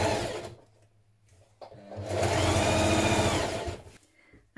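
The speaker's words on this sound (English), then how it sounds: "So do this line of stitching first of all." Sewing machine stitching a seam on a Vogue 1777 pullover dress, a short whirring run, a pause with small clicks, then a longer steady buzzing stretch of close, loud stitching.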